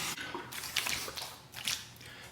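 Cold water splashed onto a freshly shaven face, a series of close, wet splashes and drips in irregular bursts, fairly quiet and without talk.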